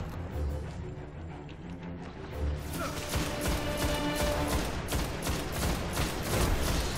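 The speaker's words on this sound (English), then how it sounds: "they just put a grenade in here" A grenade goes off in the sci-fi shooter Destiny, a loud crashing blast around the midpoint that swells into sustained dense gunfire and clatter lasting to the end.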